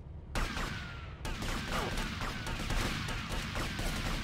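Gunfire in GTA Vice City Definitive Edition, a rapid burst of shots starting abruptly and continuing as a dense, rattling barrage of overlapping blasts and impacts, loud and sustained.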